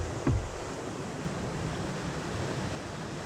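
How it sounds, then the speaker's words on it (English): Ocean swell runs fast down coastal rocks at a rock-fishing spot, making a steady, broad wash of surf and rushing water with some wind noise and a brief thump near the start; nobody talks. "the way the swell's running today, it runs down the rocks really fast"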